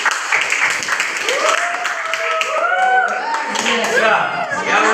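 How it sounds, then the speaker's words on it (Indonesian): Students clap for a group in a classroom lesson: brisk, uneven clapping close by, with children's voices chattering and calling out over it throughout. "tepuk tangan untuk kelompok 1"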